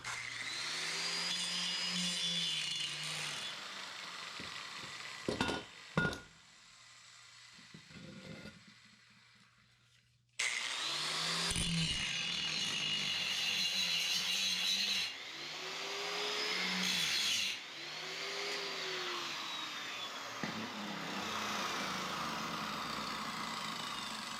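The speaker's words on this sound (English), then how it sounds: "I'm going to grind off around there so that I have a nice, clean spot to weld" An angle grinder strips paint from metal for welding while building a large ATV trailer, a close, loud whine rising and falling in passes, with a quiet pause partway through before grinding resumes.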